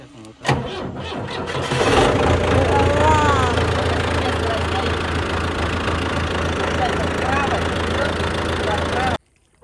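A tractor engine cranks with a few sharp turns, then catches and settles into a steady, rumbling idle that runs for several seconds before cutting off abruptly. Faint voices can be heard in the background.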